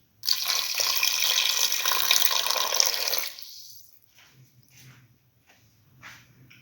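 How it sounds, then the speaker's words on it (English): Water poured into a cooking pot for an eggplant, split mung bean and rice dish, a steady close splashing pour lasting about three seconds, followed by a few faint drips and small kitchen clatters. "Pour in 200 ml of water."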